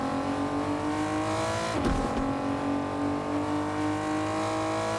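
A race car engine drones steadily on a Fortnite racing circuit, holding a high revving whine with a brief surge and pass around the middle, loud and continuous.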